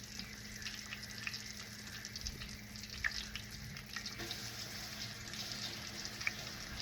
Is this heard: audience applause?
no